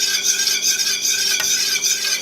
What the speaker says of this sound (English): you want to continue to whisk